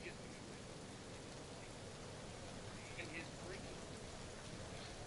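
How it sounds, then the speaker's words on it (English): Steady rain falls throughout, a dense even hiss with scattered faint drops, close and continuous at low level. "It's rain sounds."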